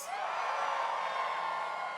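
A festival crowd cheers and whoops in a sustained roar of high-pitched yells, dense and even for a couple of seconds.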